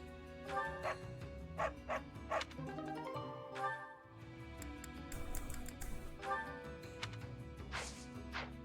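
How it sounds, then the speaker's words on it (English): A dog in Fire Emblem: Three Houses gives several short barks and yips over steady in-game background music. "There's a dog."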